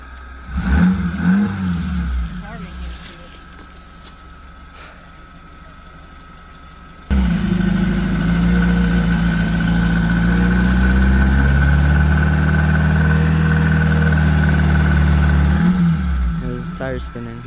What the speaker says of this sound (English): His tire's spinning.